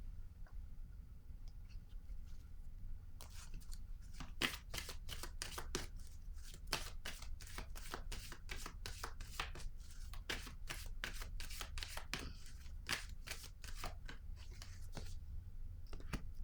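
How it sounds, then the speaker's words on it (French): Tarot cards being shuffled, slid and laid down on a table at close range, a quiet flurry of papery flicks and taps in irregular bursts, mostly alone with no clear talk. "Ici, je vais déposer une autre carte."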